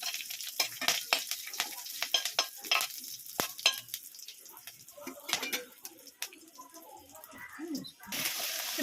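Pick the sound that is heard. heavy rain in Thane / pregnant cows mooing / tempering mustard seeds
tempering mustard seeds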